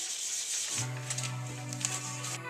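Steady abrasive rubbing of sandpaper across a clear-coat finish on a guitar neck, a continuous close scratchy hiss with small uneven strokes, no voices.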